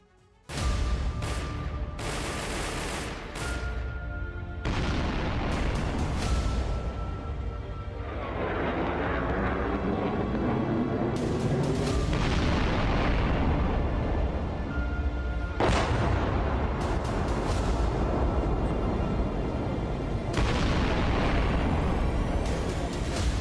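Missile, ballistic missile and rocket strikes hitting Ukraine, heavy booms and rumbling explosions layered over a sustained roaring blast sound, loud and dense throughout.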